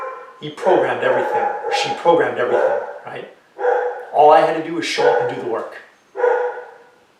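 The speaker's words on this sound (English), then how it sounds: "Sorry, that's my dog." A pet dog barking inside a room, short yips and barks mixed in and partly masked under continuous close-up male speech.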